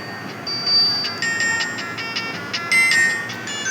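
A Symphony D89 keypad phone plays a ringtone through its loud speaker: a bright, repeating electronic melody of high beeping tones in short phrases, close and alone with no talking.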